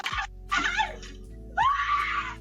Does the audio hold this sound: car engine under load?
no